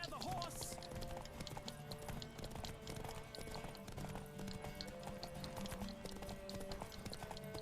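Horse hooves pound in a steady, rapid clip-clop gallop in The Witcher 3: Wild Hunt, running continuously at moderate level under game music and ambience, with a brief whinny near the start.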